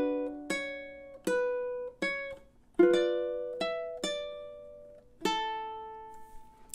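Ukulele plucking measures 17 and 18 of a song: a steady sequence of about eight bright picked notes, each sustained and fading before the next, played close without any talking.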